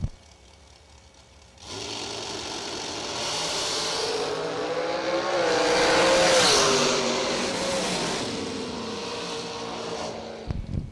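Drag race cars launch and run down the strip, engines swelling from quiet into a loud sustained roar that peaks midway and then fades, followed by a brief clatter at the end.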